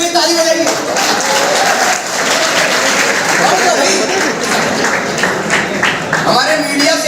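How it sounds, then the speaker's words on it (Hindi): Audience applause at a road safety event held by a college, a dense, steady wash of many hands clapping that lasts the whole stretch, with voices mixed in underneath. "इनके लिए भी ताली बजाइए।"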